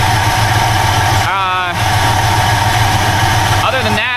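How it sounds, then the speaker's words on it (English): A 1971 Buick GS engine idles steadily and loudly up close, with whining pulley noise over the drone and a voice talking over it in brief stretches. "these pulleys are making some noise here."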